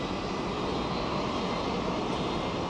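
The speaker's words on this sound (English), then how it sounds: "Rolls-Royce engines." China Eastern heavy jet with Rolls-Royce engines arriving on runway 16 right at Sydney Kingsford Smith Airport, a steady broadband engine roar with a continuous hissing rush, loud and unbroken throughout.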